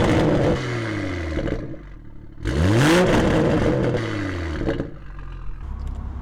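A rebuilt 800-horsepower Toyota Supra engine revs hard several times, rising and falling in pitch with a throaty roar, loud and close.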